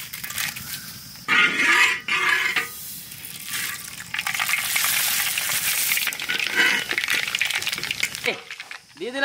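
Dried red chillies dropped into hot mustard oil for a village-style tomato chutney, a loud burst of frying and crackling sizzle that swells and settles, with stirring and a voice speaking briefly over it.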